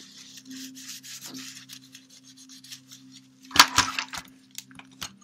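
A cleaning towelette rubs across the surfaces of an ABC Model 4100 unit, with soft scratchy wiping strokes that turn louder and crisper near the end, over a steady low hum.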